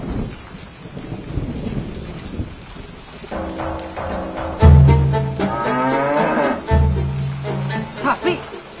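A cow lows loudly and close in two drawn-out moos, heard amid a thunderstorm with rain, rumbling thunder and people talking.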